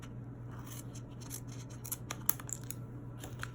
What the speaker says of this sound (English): so we're going to trim that excess off.